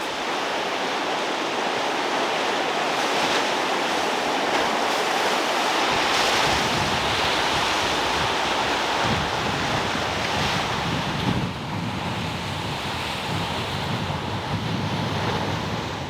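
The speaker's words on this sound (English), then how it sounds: "every time the tide goes back out on the pebble beach down there, you can hear all the rocks like rolling back into the sea" Waves wash in and pull back over a pebble beach along the Gozo coast near Marsalforn and Nadur, making a continuous rushing roar with a gritty rolling rattle of stones, heard from a distance against steady wind noise.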